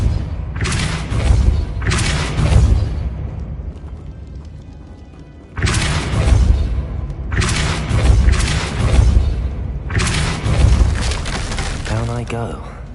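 A Depulso spell in Hogwarts Legacy: repeated heavy booming thuds in bursts, with short quieter gaps between the impacts.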